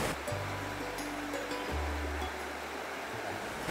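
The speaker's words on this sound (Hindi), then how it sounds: "हमारे पीछे देखिए आप ये mini waterfall, step by step पानी निकल रहा है।" A small stepped waterfall flows, water spilling down step by step in a steady close rush with a low rumbling undertone.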